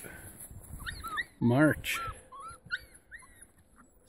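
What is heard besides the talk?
young Elkhound puppies whimpering on a mountain hike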